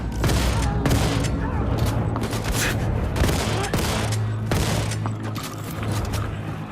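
Rapid bursts of automatic gunfire from a rotor-upgraded gun with extended magazine and shrapnel in the video game Wolfenstein 2, loud dense volleys with booming impacts and sharp repeated cracks, a few brief pauses between bursts.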